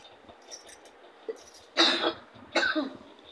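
Two harsh coughs come close together, each a short raspy burst, against a quiet background.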